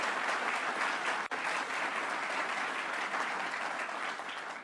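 A crowd applauds steadily at a regional cabinet meeting, a dense wash of clapping that holds at full strength throughout, with no voices over it.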